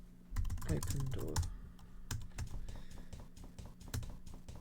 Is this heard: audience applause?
no